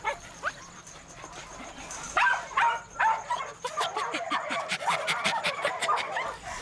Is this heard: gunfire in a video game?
no